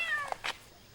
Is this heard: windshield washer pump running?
no